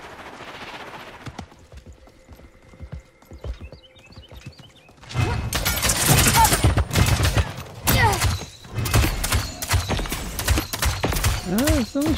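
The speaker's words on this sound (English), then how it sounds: "Someone's shooting at me." Rapid bursts of gunfire in the battle royale game Realm Royale, loud and close with dense repeated shots and impacts, following quieter clicks and game sounds.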